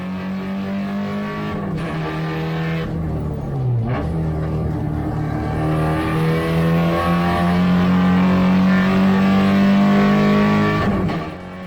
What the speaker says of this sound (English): Some stunning close racing developing between these two.